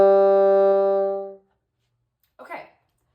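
Bassoon sounding a half-hole G, one sustained clear reedy tone held for over a second and then fading out, followed by a short burst of breath or handling noise.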